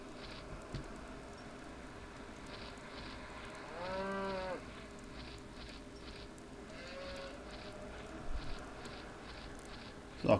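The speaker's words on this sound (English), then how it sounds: "Some moo cows in the distance." In the Western adventure game Al Emmo and the Lost Dutchman's Mine, distant cows moo twice, one long low call then a softer answer, set against a quiet outdoor ambience with occasional small clicks.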